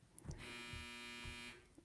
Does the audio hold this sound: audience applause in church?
no